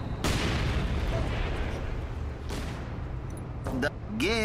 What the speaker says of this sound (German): Die werden vom Mörser ein bisschen aufgemischt